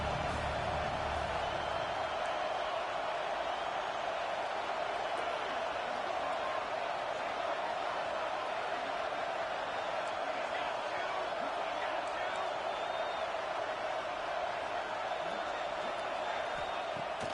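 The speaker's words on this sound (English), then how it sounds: "The Buckeye crowd alive on third down." A stadium crowd roars continuously in the NCAA 26 American football video game during an Ohio State versus Michigan matchup, a steady, dense wall of cheering that stays loud throughout.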